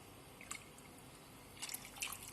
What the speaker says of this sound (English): Now we will add water.